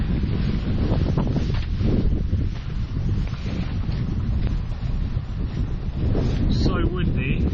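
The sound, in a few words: strong wind on a hilltop while wild camping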